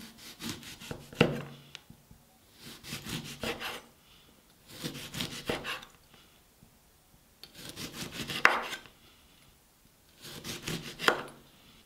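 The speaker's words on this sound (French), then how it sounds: "je vais couper mes citrons comme ceci" Lemons are sliced with a knife on a board, five separate bursts of rhythmic rasping, sawing strokes with short quiet gaps between them, close and clear with no talk.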